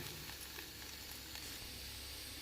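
Masala with grated coconut stirred in a pan, a faint continuous sizzle and soft scraping, brief and alone.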